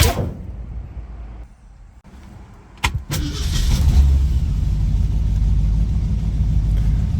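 A white 1965 Ford Mustang Coupe with a 289 V8, automatic transmission, power steering and air conditioning gives a sharp clunk or two, then its engine rumbles steadily and grows as it pulls away.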